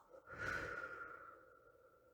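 A single deep exhale during a guided relaxation and emotional-release exercise, a long soft breath rising quickly and then fading slowly over about two seconds, close and quiet with no talking.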